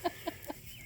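Homestead chickens give three short, soft clucks in quick succession, fairly close but quiet, with nothing else heard.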